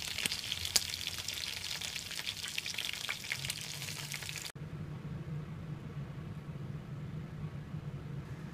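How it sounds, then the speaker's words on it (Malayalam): Chicken kebabs fry in hot oil, making a dense, steady crackling sizzle that cuts off abruptly halfway through, leaving a quieter low bubbling hiss; close up, no voices. "ഇതുപോലെ നമുക്ക് ബാക്കിയുള്ള കബാബുകൾ കൂടെ ഫ്രൈ ചെയ്തെടുക്കാം"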